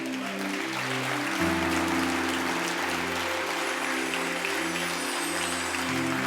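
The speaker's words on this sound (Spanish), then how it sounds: "Si le va a dar un aplauso, déselo a Él." A church congregation applauding during a sermon on Christ's death and resurrection, steady clapping blended with sustained keyboard chords playing underneath throughout.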